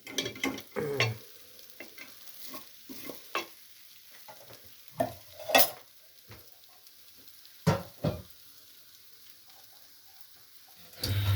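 Turkish-style rice is stir-fried in a pan with butter and a little sunflower oil: close, intermittent scraping and stirring strokes over a faint sizzle, with louder clatters now and then and no voices.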